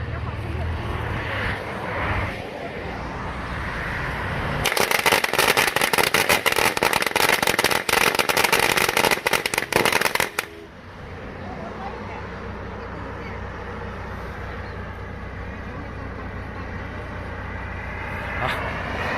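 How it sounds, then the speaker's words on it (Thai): A long string of firecrackers set off for a Thai car blessing ritual before taking a vehicle out of the shop, a dense burst of rapid cracks lasting several seconds, with people talking before and after. "จดประทัดเรียบร้อยครับ"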